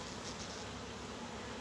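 Carniolan honeybees hum around a hive in a soft, steady drone, faint and continuous with no voices.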